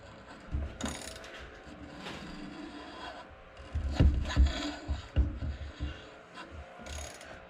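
A hand reamer, turned with a socket, works through the king pin bushing of a 1965 VW Beetle front spindle, making irregular close scraping, grinding and ratcheting bursts with short pauses between turns.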